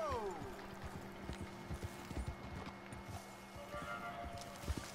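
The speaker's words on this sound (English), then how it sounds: "Hitch my horse up right here." Hooves of a horse in Red Dead Redemption 2 clip-clop in an uneven walking rhythm, close and moderately quiet, over a low steady game ambience with a faint voice now and then.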